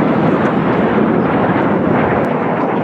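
A jet racing plane flies laps around the course at a Jet Gold air race. Its loud, broad roar stays steady throughout with no break.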